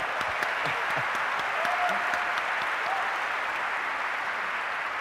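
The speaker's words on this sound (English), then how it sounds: "let's give a big round of applause for our orchestra today" Steady applause from an audience for an orchestra at a Nintendo E3 2011 press conference fills the whole stretch, dense and continuous, with a couple of faint voices or tones briefly audible beneath it.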